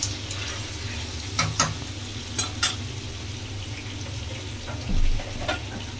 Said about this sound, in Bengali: পনিরগুলো ভেজে এসছে, হয়ে গেছে পনিরগুলো ভাজা।